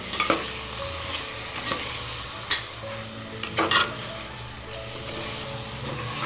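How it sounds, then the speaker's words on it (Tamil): Ground paste is stirred into chicken pulav in a frying pan: a constant bright sizzle fills the background while a utensil scrapes and knocks against the pan a few times, close and clear. "ஸோ இதை ஆட் பண்ணிவிட்டு நல்லா மிக்ஸ் பண்ணிடணும்."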